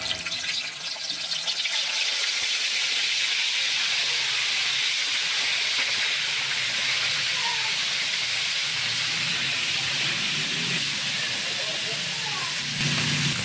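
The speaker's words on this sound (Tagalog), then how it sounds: "Deep fry." Marinated chicken deep fries in hot oil, a loud, steady crackling sizzle close by that lasts the whole time without fading.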